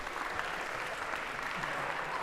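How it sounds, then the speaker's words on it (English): Steady, dense applause from a lecture-hall audience for the volunteers, even and continuous with no voices above it. "And a round of applause, if we could, for our volunteers"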